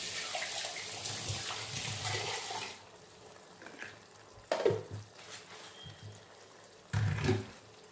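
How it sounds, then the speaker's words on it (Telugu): Water is poured into a pot of chicken and chana dal curry, giving a rushing pour that fades out, then short splashy bursts of stirring, close and with no talk. "ఇప్పుడు కొంచెం వాటర్ కూడా వేసేస్తున్నానండి."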